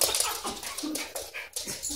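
A Chesapeake Bay Retriever whimpers and whines in short, close, fairly loud bursts over roughly two seconds, with no talking.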